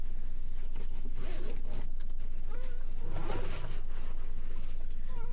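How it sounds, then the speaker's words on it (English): A small zipper pocket inside the front pocket of a bag is unzipped, a close scratchy rasp of the teeth in a few short pulls, with light handling noise and no talking. "I never noticed that there's a small zipper pocket within the front pocket of this."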